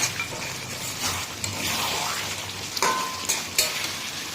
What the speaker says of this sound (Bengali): মাংসটা আমি এখন ভালো করে কষিয়ে কুকারে দিয়ে দেবো